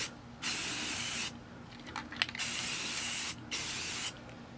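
A can of green spray paint hissing in several bursts while building O scale model train layout trees, steady sprays separated by short pauses, with faint rattling and handling noise between them.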